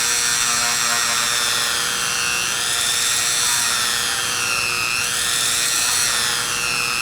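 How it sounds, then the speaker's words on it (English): A high-pitched electric drill whines steadily and continuously while drilling a hole in a small carved wooden figure, its pitch rising and dipping slightly as it bites, loud and close with no talking. "I'm going to drill a hole in his hand."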